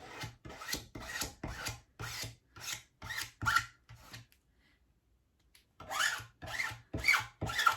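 Repeated rasping scrapes of a spreader pushing paste across a stencil, a steady rhythm of strokes with a brief pause midway, close up.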